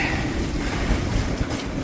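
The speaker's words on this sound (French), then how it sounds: "C'est du bon vent." Strong wind blows steadily across a boat at anchor, a loud broadband roar buffeting the microphone with surging gusts and no voices.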